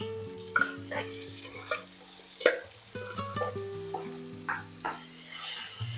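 Tomatoes sautéing in a pan for Tamil-style kara kulambu, with a spoon stirring and scraping in scattered knocks and clinks over a faint sizzle, with some tonal background hum.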